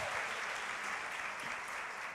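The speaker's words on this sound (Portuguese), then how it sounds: "Aplauda aí esses dois viajados." A church congregation applauds in a steady, dense wash of clapping that holds evenly for about two seconds at moderate distance, with no voices standing out.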